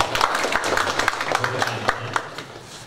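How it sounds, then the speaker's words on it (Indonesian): An audience at a graduation ceremony claps together in a steady patter of scattered hand claps that holds through the moment, at moderate loudness with no talk over it. "Tepuk tangan untuk Ibu Marhamah kita."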